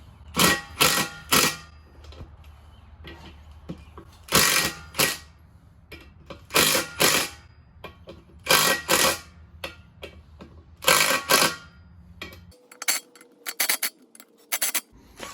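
A ratchet loosening beadlock wheel bolts on new tires clicks in repeated short bursts, a few sharp clicks at a time with pauses between, close and fairly loud, with no talking.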